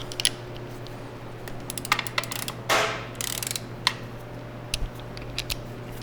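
Socket wrench ratcheting while torquing timing belt bolts on a Toyota 4.7 engine: sparse, close metallic clicks with one short rasping burst, over a steady low background hum.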